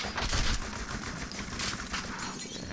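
A rifle fired in the shooter game You Are Empty, heard as a busy wash of rapid gunfire bursts with crackling impacts, fairly soft and continuous with no talking.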